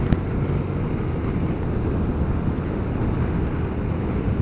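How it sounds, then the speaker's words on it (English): Steady, loud wind roar buffeting a microphone while riding a 2021 Honda Forza 750, a continuous low rush with no break for several seconds. "A fair amount of wind noise"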